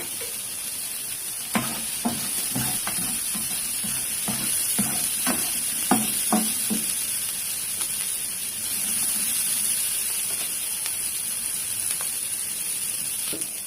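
Olive oil and rosemary frying in a pan: a steady close sizzle with a bright hiss, broken by scraping stir strokes in the first half.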